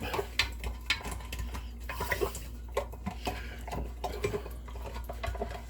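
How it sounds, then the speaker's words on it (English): A spoon stirring fermented mild Thai chili hot sauce in a container, repeated close scraping and clinking taps against the sides. "So we're going to stir. Get that good mixed up."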